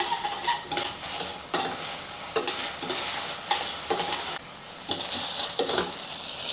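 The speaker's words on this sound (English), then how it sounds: "In the same pan, saute the ginger, garlic, and scallion" Ginger, garlic and scallion sauté in a pan still coated with browned bits from searing beef. A loud, continuous sizzle is broken by repeated sharp scraping strokes as the aromatics are stirred, with no talking.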